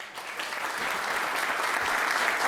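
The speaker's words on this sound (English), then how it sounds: "A round of applause for all of them." Audience applause at a startup meetup panel in Split, Croatia, a steady, dense wash of clapping that holds evenly for the whole stretch with no voices over it.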